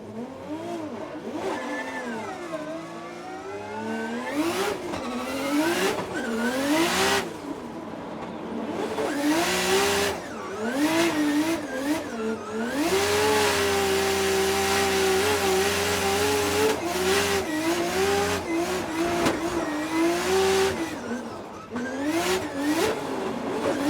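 Race car at a practice session in Texas, engine revving and shifting up and down through the gears as it passes and circles, loud and fairly close with sweeping pitch changes, brief lifts off throttle, and no talk.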